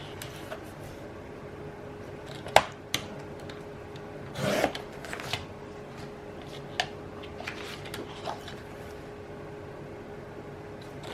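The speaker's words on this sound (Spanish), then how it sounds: "voy a cortar lo que sería la medida hacia el otro lado" Scissors cutting paper for a spring-themed scrapbook, faint rasping snips and rubbing in short scattered bursts over a quiet room hum.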